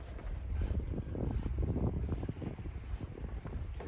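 Strong coastal breeze buffeting the microphone outdoors on the Australian coast, producing loud, continuous low rumbling gusts that swell and ease over a few seconds with no voice heard.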